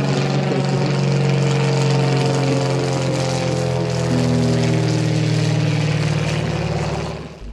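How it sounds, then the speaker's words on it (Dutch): A 1943 Stinson AT-19 Reliant propeller airplane flies close by with a loud, steady droning engine and propeller hum that holds for several seconds, then fades slightly at the end. "co Seiben, afkomstig uit Nederlands-Limburg, herdacht de periode van de bevrijding en operaties door de Britse luchtmacht met zijn Stinson AT-19 Reliant uit 1943"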